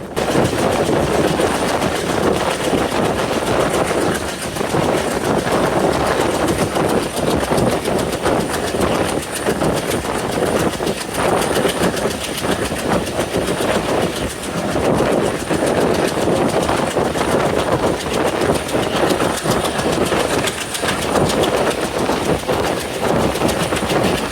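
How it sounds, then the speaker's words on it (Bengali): A non-stop special passenger train from Khulna to Dhaka, Bangladesh, rumbles steadily through Nimtala railway station, its wheels clattering loudly and continuously with no break for the whole stretch. "খুলনা স্পেশাল ট্রেনটি এখন নিমতলা রেলওয়ে স্টেশন থ্রুপাস করে যাচ্ছে"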